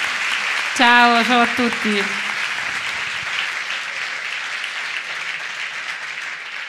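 Sustained audience applause, a broad even clatter of many hands clapping that fills the room and tapers slightly, with a voice greeting the crowd briefly at the start.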